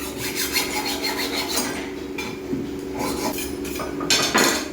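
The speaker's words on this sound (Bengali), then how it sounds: "মাছটা আমি কাটছি" A whole hilsa fish is cut into pieces, heard as close, repeated rasping and scraping strokes of a blade against fish and a board, with brief pauses between cuts and no voices.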